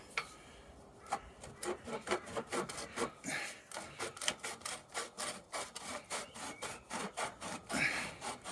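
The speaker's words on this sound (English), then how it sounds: "So now hopefully we can slide this tube out." A metal tube scrapes and grinds as it slides out of the frame of a child's swing, a close, rhythmic series of rasping strokes with no talk.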